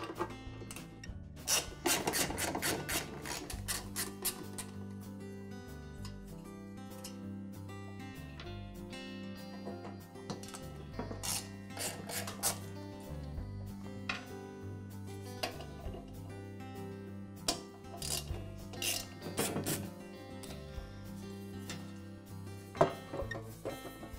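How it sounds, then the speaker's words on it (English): Metal parts of a DeWALT air compressor's top cover being worked loose by hand as its manifold comes off: scattered close scraping, rubbing and clicking with sharp taps, at moderate level and with no talking. "Now remove the manifold from the top cover."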